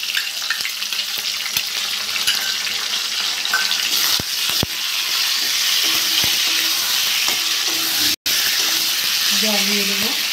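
Pointed gourd pieces frying in a pan with ground mustard and green chilli paste, a steady close sizzle running throughout with occasional utensil clicks and a brief dropout near the end.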